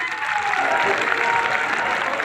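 Sustained clapping from a large crowd at a Haryana farmers' rally, steady and dense throughout without pause.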